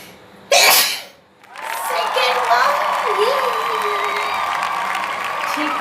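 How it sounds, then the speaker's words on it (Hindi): A single loud, close sneeze bursts out after sniffing pepper powder, followed by a rising wash of crowd-like noise and voices behind it. "पहले ही अटेम्प्ट में छींक ली।"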